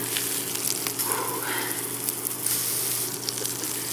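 A burger patty frying in butter in a pan on lower heat gives a steady, continuous sizzle and crackle, close and fairly loud throughout.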